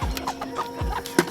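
Backyard chickens cluck in a front-yard food garden, giving several short, close clucks in an uneven rhythm with no talking.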